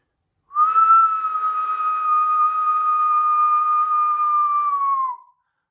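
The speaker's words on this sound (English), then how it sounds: "So it should look something like this when you're whistling." A person whistles one clear, steady tone held for about four and a half seconds, close and fairly loud, starting and stopping cleanly in a quiet room.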